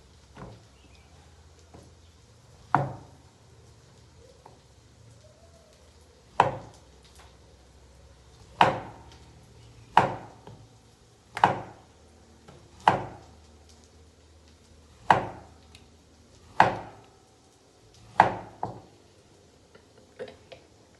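Knife cutting food into round slices, about a dozen sharp, isolated chops on a board spaced a second or two apart, close and clear over quiet room tone, with no talking.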